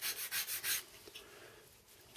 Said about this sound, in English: we'll take our sanding block, which every one of you should have, and I'm just going to sand this